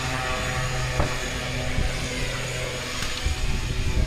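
Skydiving airplane at a drop zone, its steady engine drone carrying evenly throughout at moderate level, with a few faint knocks and clicks over the hum and no talking.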